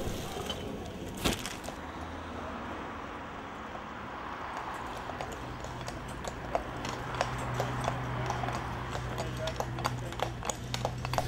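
A horse's hooves clip-clop at a steady rhythm on a city street, moderately close, over a background of urban traffic and murmuring voices.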